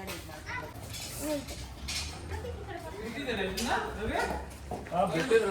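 A dog barks and whimpers intermittently at a home during a homecoming celebration, partly buried under near, continuous conversation and some clinking of dishes.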